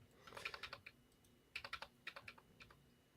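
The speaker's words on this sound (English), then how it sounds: "He bills hourly, and he types loudly." Someone types fast on a computer keyboard, a close clatter of sharp keystrokes in short bursts with brief pauses between them.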